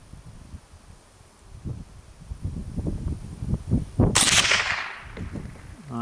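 A Savage A22 heavy fluted-barrel rifle firing Federal ammunition outdoors: a single sharp crack cuts through steady wind buffeting and rustling.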